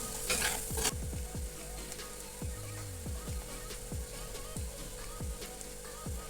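Sardine curry masala with spice powders sautéing in a pan, a steady soft sizzle broken by repeated scraping stirs of a spatula, close and fairly quiet, no voices.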